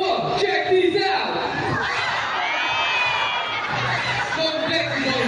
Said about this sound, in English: A round of applause for Sea Lion Brand